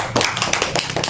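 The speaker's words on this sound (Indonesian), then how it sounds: "Oke, tepuk tangan dulu buat" Applause from a classroom audience during a geography microteaching session, about a second of dense, steady clapping at moderate volume with no talk over it.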